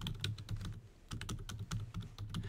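Fingers type quickly on a computer keyboard, a dense run of close, crisp key clicks with a brief pause around the one-second mark.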